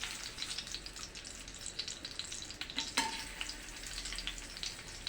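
Pre-boiled pork meat frying in hot oil, a steady close sizzle and crackle with a brief sharper spatter near the middle, no voices.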